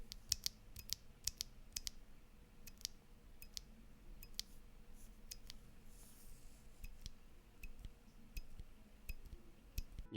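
Baby Kangaroo 2.0 tactile keyboard switches are pressed one after another in an irregular run of crisp clicks, some with a faint metallic spring ping, heard close in a quiet room.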